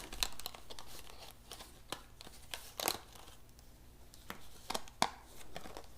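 Die-cut cardstock paper wreath being popped free from its sheet: a series of sharp, close crinkly snaps and crackles at an irregular rhythm, some louder than others, with no voices.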